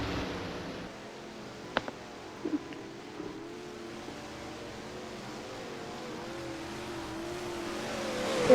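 Dirt late model race cars idle and roll slowly down pit road at a dirt track, a low steady engine drone with a few brief sharp knocks early on, swelling slightly louder toward the end.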